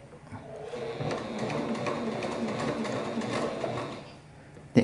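A sewing machine stitches two layers of fabric for a lined lunch bag in one continuous run, a soft, close whirring patter that stops near the end.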